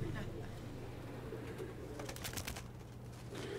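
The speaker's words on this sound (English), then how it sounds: "I know every single pigeon up here, every single one." Pigeons at a rooftop coop in New York, housing some 180 flying birds, give soft low coos through steady ambient noise, with brief brighter flutters or calls midway.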